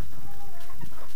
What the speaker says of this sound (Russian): Наблюдать за молодыми курочками очень интересно.